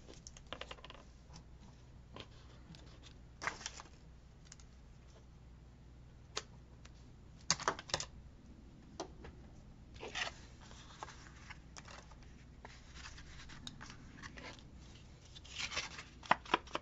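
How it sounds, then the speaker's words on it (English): Paper tearing by hand, Tim Holtz wallpaper being ripped in a crafting session, heard as quiet, irregular crackling rips and short tugs spread across the clip, close and faint with no talking. "I'm going to rip that off."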